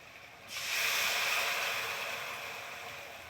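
Mustard and poppy seed paste hits a hot pan with a sudden loud sizzle that starts about half a second in, then holds as a steady broad frying hiss that fades slightly toward the end, with no voices.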